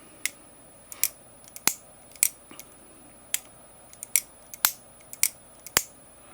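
Sharp metallic clicks and snaps repeat about a dozen times at an uneven pace, close up, as a CIVIVI Vision FG folding knife is flicked open and shut in a quiet room.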